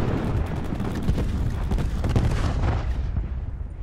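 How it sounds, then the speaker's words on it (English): A cluster grenade explodes in Black Ops 4 multiplayer as a dense rumbling burst of overlapping blasts, loud and continuous before fading out at the end. "Cluster grenade going out."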